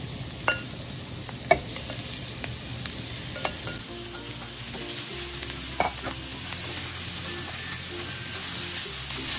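Ground beef sizzling in a pan for Filipino-style spaghetti sauce, a steady close frying hiss with occasional scraping stirs and clicks of the utensil, no talking.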